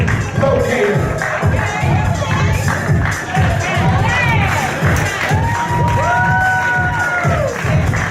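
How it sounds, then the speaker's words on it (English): A loud crowd at a fashion and award show cheers, whoops and shouts for a fashion designer, with children's shrill voices and claps mixed into a dense, continuous roar. "let's give a round of applause to fashion designer Lacey Jim"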